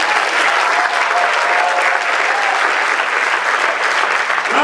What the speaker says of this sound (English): Round of applause for our poets